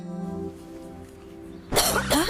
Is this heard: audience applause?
no